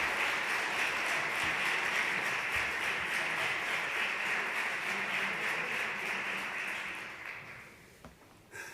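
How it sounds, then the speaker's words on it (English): An audience at an institutional closing event gives a full round of applause for Carlos Morales, president of Madrid Platform, steady clapping from many hands that tapers off near the end. "Please give him a big round of applause."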